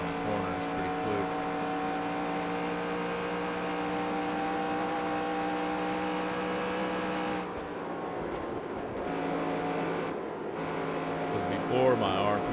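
Stock car engine in the NASCAR Racing 2003 game at Charlotte Motor Speedway, driven hard: a loud, steady high-revving drone with strong harmonic whine, dipping briefly as the car lifts for corners, with a voice talking over it.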